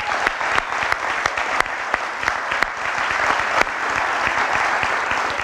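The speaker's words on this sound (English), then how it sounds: "Let's give Tommy a really big round of applause." An audience claps steadily at a fall sports awards ceremony, a dense, sustained round of applause from many hands with a few sharper individual claps standing out, fairly close and loud throughout with no voices heard.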